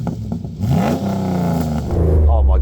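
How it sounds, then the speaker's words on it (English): Land Rover Defender engine revving up close, a rising roar that climbs in pitch and holds, with a voice speaking briefly over it. "so I'm just going to rev this thing up"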